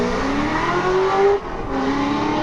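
A BMW drift car at a Formula Drift event in Salt Lake City screams at high revs, loud and continuous, with engine pitch climbing then dipping briefly before surging again.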